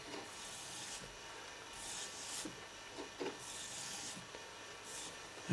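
A sharp blade shaves a 45-degree bevel along the underside of a leather strand for a bullwhip, making faint, rhythmic rasping strokes with short pauses between them, close and quiet with no voices.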